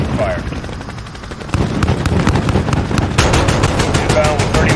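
An aircraft gunship fires in Call of Duty Modern Warfare: loud, rapid bursts of heavy automatic cannon fire hammer out in quick clusters, getting denser toward the end, with radio voices faintly underneath.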